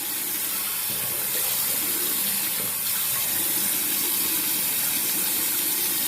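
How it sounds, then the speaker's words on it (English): Hot tap water runs steadily into a sink to rinse a shavette razor, a continuous close hiss and splash with no pauses throughout. "I'll give it a hot water rinse here."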